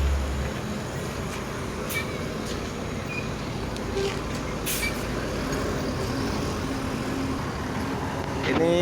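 An ANS intercity bus from West Sumatra pulls into the Yoanda Prima rest area in Palembang on a morning, its engine rumbling steadily amid road traffic, with short air hisses and voices in the background.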